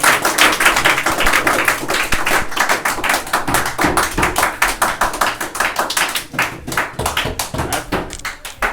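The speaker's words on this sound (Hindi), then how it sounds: "तो जोरदार ताली से स्वागत कीजिए।" Audience at a Class 10 coaching farewell party breaking into loud, sustained applause, rapid dense clapping filling the room close by and tapering slightly near the end.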